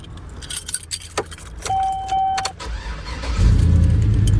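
A custom Hummer H2 starts: keys jangle near the ignition and a steady electronic chime sounds, then the engine cranks and catches into a loud, low idle close by.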